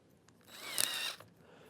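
A power drill bores into a plywood workbench in one short burst, rising to a loud whirring peak and then cutting off, close by in a quiet room.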